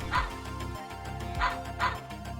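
Robot puppies in a Mega Man video game give short electronic barks and yips, three distinct bursts spaced about a second apart over a steady game music background.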